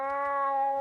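A single sustained, tonal cat meow from a video game, clear and fairly loud, lasting under a second with nothing else around it.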